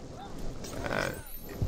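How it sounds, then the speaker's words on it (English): A sheep bleats in the video game Fowl Space as it is thrown at the player, a short bovine-sounding cry near the middle of a brief clip with game noise around it. "That guy's throwing sheep at me."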